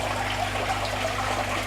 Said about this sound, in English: I'm having to shout a little bit louder because of the pond waterfall. It's quite loud